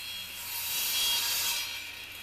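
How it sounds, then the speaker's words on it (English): A 1x6 wood board is sawn into pieces by hand, giving a soft, airy rasping stroke that swells and fades once, fairly quiet and close. "From a 1x6 board, cut several pieces 19 inches long."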